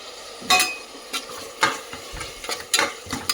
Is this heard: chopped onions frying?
yes